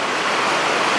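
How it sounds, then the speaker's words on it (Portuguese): Steady rain pours down in a dense, continuous hiss with no breaks, loud and close, with no voices over it. "a chuva é uma bênção, né? Logo ela vai parar."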